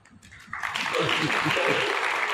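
An audience breaks into clapping during a talk, starting after a brief pause and swelling into dense, steady applause.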